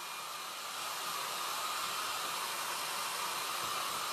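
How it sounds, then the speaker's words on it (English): A cheap $10 travel hair dryer on its cool setting blows a steady, loud broadband whoosh of air that holds even for about four seconds, with no voices. "Okay, I'm using the cool setting on my hair dryer."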